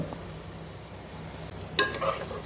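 Rice being stirred and fried with onions for chicken tehari gives a steady close sizzle, with a sharper scraping stir and a louder crackle near the end.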